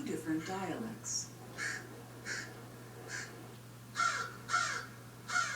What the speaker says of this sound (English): Scientists have identified over 250 distinct crow calls.